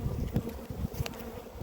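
Honey bees buzz steadily inside an opened beehive during a nucleus colony install. The dense hum sounds close, with a few louder passes as bees fly near.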